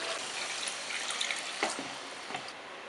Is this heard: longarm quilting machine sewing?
no